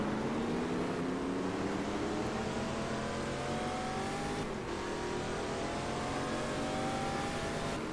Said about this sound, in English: we will lose the traction and spin this Ford GT40 around